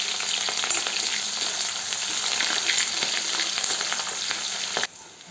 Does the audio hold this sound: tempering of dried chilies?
yes